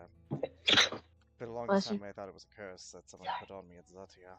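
A single sneeze bursts out near the start amid a tabletop role-playing game session, followed by continuous close speech as a person keeps talking.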